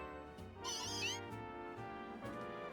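Meowth, the cat Pokémon in Pokemon Legends Z-A, lets out a drawn-out synthesized meow over looping game background music, mid-loud and alone without talk.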